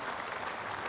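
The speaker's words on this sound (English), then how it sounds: "terrific round of applause for Liam Dawson, who's made his highest score of the season" A cricket crowd at a County Championship match between Hampshire and Yorkshire claps in a brief, steady burst of applause, heard from a distance with no talk over it.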